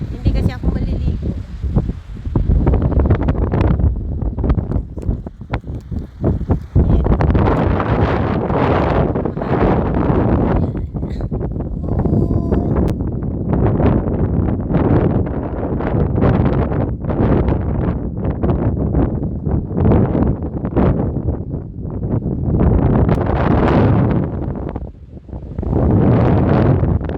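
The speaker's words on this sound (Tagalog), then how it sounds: "Mahangin kasi dito." Strong wind gusting at a beach, loud buffeting rumble across the microphone nearly the whole time, with people talking underneath.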